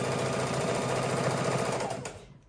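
A sewing machine stitches raw-edge appliqué on a Halloween quilt, running in a steady, fast, close mechanical rattle for about two seconds before stopping abruptly.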